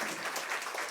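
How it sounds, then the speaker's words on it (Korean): A church congregation applauding at an end-of-semester worship service during an appointment ceremony: a short, dense burst of many hands clapping at an even level, with no voices. "박수로 감사합니다"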